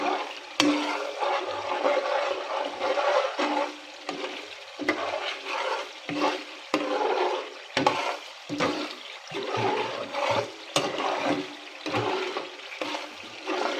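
Food is stirred in a pan while oil is being made, giving repeated uneven scraping strokes over a soft sizzling bubble, close and moderately quiet, with no talking.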